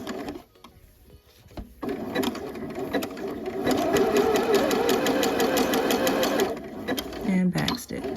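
A sewing machine stitching fabric for joggers, running steadily at moderate volume with a brief start and a short back-stitch reversal near the end, close by.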